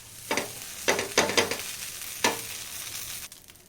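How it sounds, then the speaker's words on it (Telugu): Dosa batter sizzling on a hot pan, with several sharp crackling bursts as it is handled, each fading into a soft steady hiss between them. "ఇలా ఒకవైపు దోరగా కాలిన దోశని రెండో వైపు కాల్చుకోవాలి"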